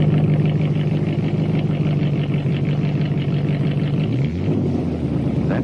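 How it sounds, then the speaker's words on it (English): Car engine idling with STP oil additive in its oil, a smooth, even hum heard on an old 1963 radio broadcast, steady throughout before shifting slightly near the end. "Listen to that engine idle."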